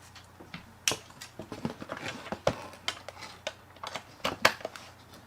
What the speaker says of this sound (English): plugging stuff in and unplugging stuff over and over